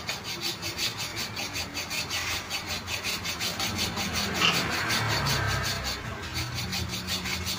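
A hand file rasps against a metal mold for a rubber impeller in quick, regular back-and-forth strokes, close and fairly loud, with a brief pause and change in the stroke near the middle.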